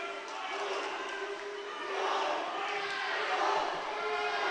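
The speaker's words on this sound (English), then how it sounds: "You can hear the teammates cheering." Teammates cheer and shout from the deck during a high school boys swimming meet, a steady indoor crowd roar that swells midway and holds under echoing pool-hall noise.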